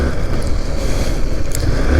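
Steady motorcycle riding noise with broadband wind rush and a low engine drone, continuous and fairly loud for the whole stretch on a road near a market, no voices.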